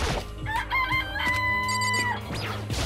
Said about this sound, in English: You just want me to look at the fucking chickens?